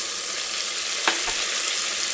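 Spices, herbs, tomato and chillies fry in a pan for a village-style chicken sambar, making a close, even sizzle with a couple of short stirring knocks midway.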